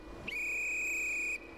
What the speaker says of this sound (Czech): Každopádně, my pískneme průvodčího stejně